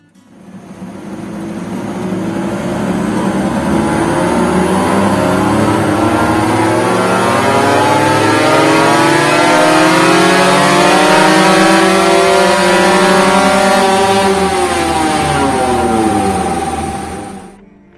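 A motorcycle engine fitted with a BRT Invio CDI revs hard and close on a dyno, its pitch climbing steadily through the gears for a long, loud, sustained run.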